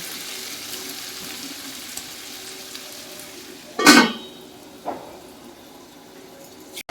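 Fried rice ingredients fry slowly on low heat under a lid, giving a faint, steady hiss, interrupted by one sharp metallic clatter and a smaller knock a second later.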